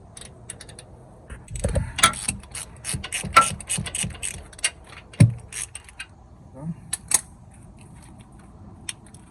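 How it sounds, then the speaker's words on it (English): A 13 mm socket wrench works loose the alternator bolts on a Ford F350 6.4 turbo diesel, with close metallic clicks, rattles and clinks in uneven bursts, then quieter taps and long pauses, no talk. "I'm gonna use number 13 to remove those bolts right there"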